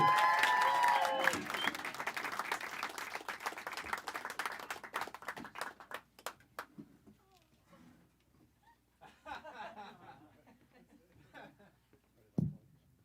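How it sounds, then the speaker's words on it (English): A comedy show audience claps and cheers for a comedian, loud dense applause at first that thins into scattered claps and fades, with talk emerging afterward. "Start clapping right now for Stephen Haas, everybody."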